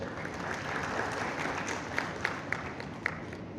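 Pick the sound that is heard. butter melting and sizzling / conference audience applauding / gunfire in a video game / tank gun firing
conference audience applauding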